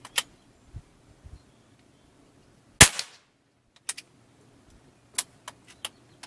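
A customized Benjamin Maximus .22 air rifle fires pellets at a target about 30 yards away: one sharp, loud crack stands out, with several fainter clicks and taps scattered before and after in a quiet setting.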